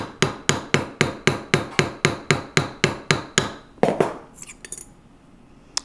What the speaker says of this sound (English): if I see my rivet bending in a bad direction, I'll pick up a larger dapping punch